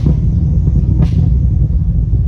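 C7 Corvette with a burble tune, a loud, close, deep engine rumble held steady with a brief rising rev swell in the middle, heard outdoors without talk.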